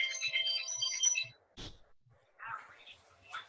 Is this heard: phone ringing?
yes